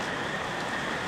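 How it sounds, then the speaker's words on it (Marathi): Heavy downpour drums steadily on a camping tent in strong wind, a dense, continuous hiss of rain filling the space at close range with no pauses and no voices. "हालत जोरात पाऊस आला"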